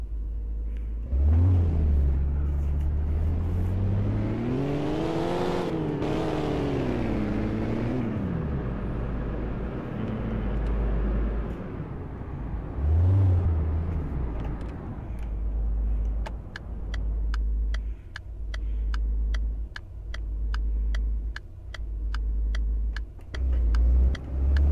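Cars in the City Car Driving simulator game, an engine revving up and down with a loud rising and falling whine, then a second rev, followed by choppy engine bursts and clicking, without talk.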